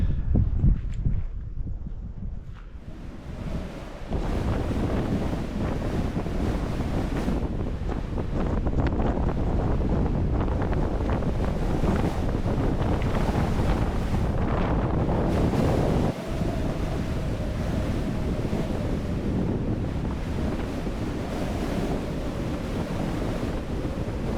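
Strong wind roars across an exposed mountain summit, a loud, continuous buffeting rush that batters the microphone with gusts and only brief, slight lulls, no voices.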